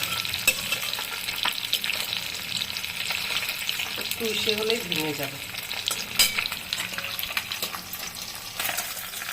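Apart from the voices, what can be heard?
boroli fish frying in oil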